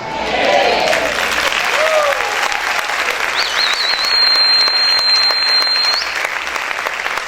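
A church congregation applauding during a service, a loud, sustained roar of many clapping hands with scattered shouts and cheers, plus a high squealing tone riding over the middle of the applause.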